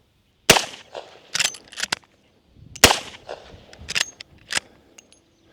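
Derya RAN Ironwolf lever-action rifle firing .357 Magnum rounds, two sharp loud shots a couple of seconds apart, each followed by metallic clacks of the lever cycling and a casing ejecting.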